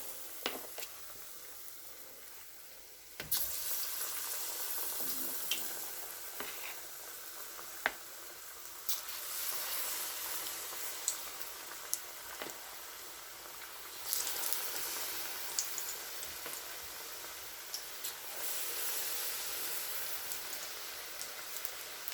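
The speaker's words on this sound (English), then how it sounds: "So you take your beans paste and you drop it in small portions." Small portions of bean paste for akara sizzle steadily in piping hot oil, a continuous close crackle and hiss with occasional sharp pops, no talking.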